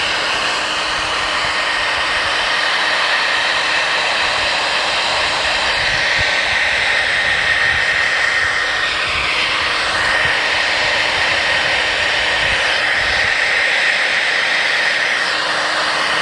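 A heat gun blows hot air steadily onto faded car bumper plastic, a loud, constant close whooshing roar with a faint whine that never lets up.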